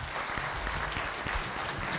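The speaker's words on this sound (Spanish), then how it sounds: "Brindémosles un fuerte aplauso," Audience at a judicial school panel on new forms of work applauds the panelists, a dense, steady wash of many hands clapping throughout, fairly close and continuous with no talk over it.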